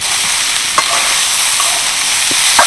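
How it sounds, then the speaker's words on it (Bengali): Potatoes frying in soybean oil for a veg biryani, a loud, constant close-up sizzle with a few brief stirring clinks and scrapes, no voices. "আমি কিন্তু এই সয়াবিনের মধ্যে দিয়ে দিচ্ছি যাতে আলুগুলো খুব সফট হয়"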